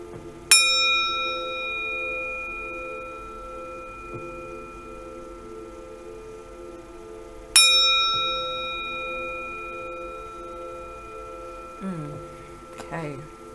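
A heart chakra chime struck twice, each ring a bright metallic strike that hangs and slowly fades, followed by softer faint clinks near the end, with no talking.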